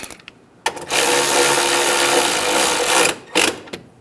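Engine intake bolts on a 2011-2014 Hyundai Sonata 2.4L four-cylinder being snugged down with a power tool, a short whir, then a loud sustained buzzing run of about two seconds, then brief bursts, up close.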